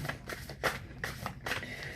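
A deck of tarot energy cards being shuffled by hand, heard as several quick, crisp riffling bursts in an even rhythm, close and clear with no talking.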